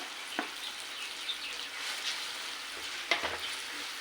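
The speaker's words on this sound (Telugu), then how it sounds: "ఇప్పుడు అల్లం వెల్లుల్లి పేస్ట్ వేసుకుంటున్నాను" Ginger garlic paste frying in a pan with a steady soft sizzle, broken by a few sharp scrapes of stirring that come near the start and again near the end, cooking for a tamarind-sour colocasia and egg curry.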